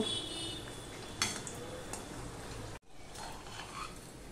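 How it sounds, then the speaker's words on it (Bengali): Steady sizzling as the second portion of a tiffin snack fries in hot oil, a continuous close hiss with a couple of faint utensil taps and a brief dropout partway through. "এবার আমি অপর পোর্শনটা আমি ভেজে নেব।"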